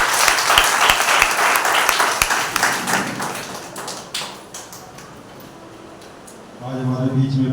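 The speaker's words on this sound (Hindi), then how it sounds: "एक बार उस जिंदा और पवित्र परमेश्वर के लिए जोरदार तालियां" A congregation claps at a Sunday church service, loud dense applause that thins and fades to scattered claps, then a voice speaks near the end.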